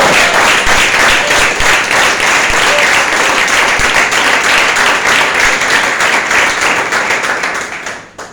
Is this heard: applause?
yes